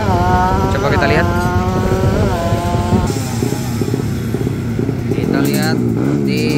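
A racing motorcycle revs and rides around the paddock at a race meeting, its engine note loud and close and sliding up and down in pitch. Voices talk over the engine noise.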